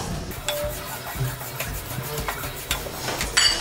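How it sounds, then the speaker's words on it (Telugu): Sesame seeds dry-fry in a hot pan for laddu, giving quiet scattered crackles and pops along with soft scraping and stirring against the metal. "ఇలా కొంచెం చిట్పట సౌండ్ వచ్చి కొంచెం లైట్గా ఫ్రై అయితే సరిపోతుంది."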